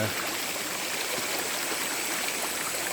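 A small streamlet beside the Kuruwita Erathna pilgrimage trail to Sri Pada flows in a steady, close, unbroken rush of water with no talking.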